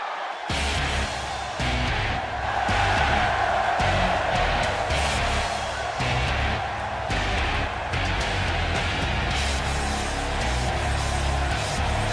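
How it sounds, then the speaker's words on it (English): An arena crowd in the wrestling video game WWE 2K16 roars and cheers in a steady, dense wall of noise that stays loud throughout, with no voices standing out. "listening to the reaction this guy gets from a crowd never gets old"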